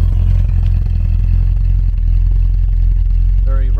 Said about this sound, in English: Engine note sounds very sweet.